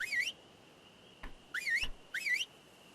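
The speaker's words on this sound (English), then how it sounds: "Let's do the whistle commands." Three rising-and-falling whistle calls used as creature commands in the video game Ark Survival Evolved, each a short warbling tone over a low steady hum, with a couple of soft thumps between them.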